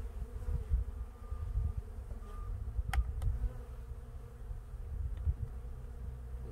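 Honey bees buzz steadily around an open hive during a March inspection, a dense low droning hum close by with a few sharper passing flights.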